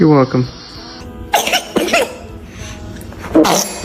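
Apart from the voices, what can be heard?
baby sneezing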